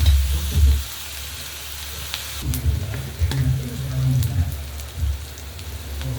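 Ginger garlic paste sizzling in hot oil in a home kitchen, a steady close crackle and hiss with scattered sharp pops, no talking.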